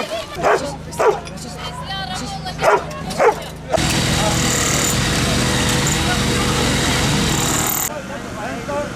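A dog barks several times in short bursts, fairly close, at a rescue drill, before a loud steady mechanical roar takes over the rest of the clip.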